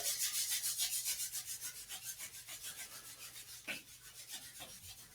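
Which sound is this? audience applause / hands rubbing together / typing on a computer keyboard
hands rubbing together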